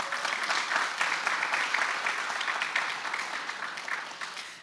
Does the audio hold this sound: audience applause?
yes